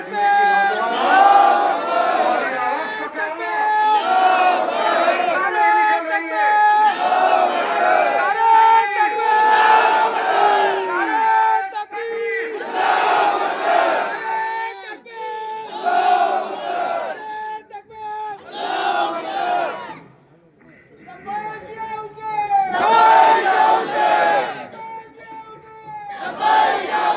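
A protest rally crowd chants loud, rhythmic slogans in unison in answer to a leader's Takbir call, the massed voices swelling in repeated bursts with a brief dip before surging again.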